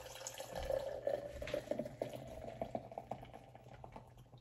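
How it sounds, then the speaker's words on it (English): Warheads watermelon drink poured into a cup during a home Korean BBQ meal: a steady, close liquid trickle with a few soft splashy pulses, no voices. "I'm just gonna pour the drink in my cup"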